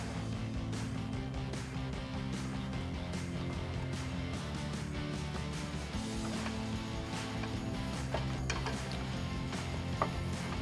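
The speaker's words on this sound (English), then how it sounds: "I'm going to lower this down with our pole jack." A pole jack lowering the suspension of a 2011-2022 Dodge Challenger during a coil-over install gives a steady mechanical drone with faint ticks and ratcheting clicks, quiet and continuous throughout.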